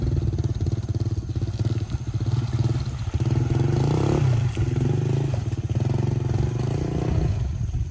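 A motorcycle rides along a rough, dry village road in rural Thailand, its engine droning steadily and loud throughout with rattling clatter and bumps from the uneven surface.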